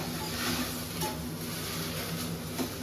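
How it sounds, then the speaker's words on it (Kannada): Okra (ladies finger) frying in a pan until brownish, a close steady sizzle with faint soft stirring scrapes and clinks, no talking. "ಸೊ ಎಷ್ಟು ಲೋಳಿ ಹೋಗೋ ತನಕ ಹುರಿದು ಸ್ವಲ್ಪ ಇದು ಬ್ರೌನಿಶ್ ಆಗೋ ತನಕ ಹುರ್ಕೊಂಡ್ರೆ ತುಂಬ ಚೆನ್ನಾಗಿರುತ್ತೆ"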